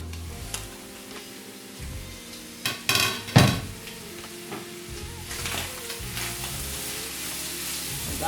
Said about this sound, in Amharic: እንግዲህ እንዲህ ሲጠበስልን በደንብ